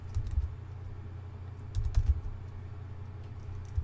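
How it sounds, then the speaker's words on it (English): Close-up keystrokes on a computer keyboard, irregular bursts of clicky taps with short pauses between them, alone with no talking. "So I'm going to type that in."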